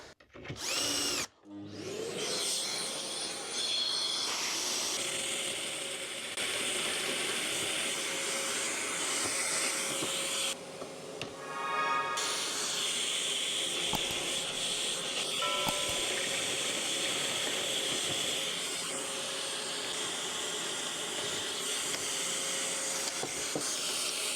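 Loud, continuous whine of a power drill with a small bit boring hinge holes into a wooden cabinet door, a vacuum attachment roaring alongside, a short pause midway, no talking.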